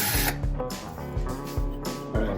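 A drill bores tuner holes into the headstock of a Samick electric guitar being restored, in short repeated whirring bursts, loud and close.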